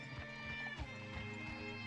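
Horse hooves in Red Dead Redemption 2, a few soft clip-clop steps at a walking pace, faint and close, over a low steady in-game background hum.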